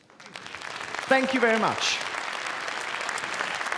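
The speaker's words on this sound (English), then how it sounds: "So one great applause for the Slovak viewers" An audience at a startup awards ceremony breaks into applause that swells after a brief spoken thanks and continues as a steady mass of clapping to the end.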